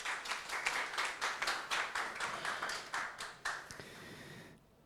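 An audience at a hybrid business event gives a short round of applause for the host, steady clapping that fades out after about four seconds.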